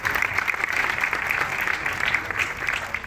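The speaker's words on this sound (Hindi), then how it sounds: "तालियां बजा दीजिए।" An audience at a programming lecture breaks into brief applause, a steady patter of many hands clapping together at moderate volume.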